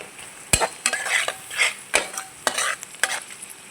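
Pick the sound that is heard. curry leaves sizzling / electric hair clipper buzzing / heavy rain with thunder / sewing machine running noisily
curry leaves sizzling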